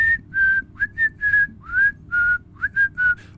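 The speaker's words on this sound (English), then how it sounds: "Whistling man is the worst" A run of about a dozen short, clear whistled notes, some sliding upward, from the Whistling Man character in Dishwashing Simulator, sounding close and fairly loud over a low, dark ambient rumble.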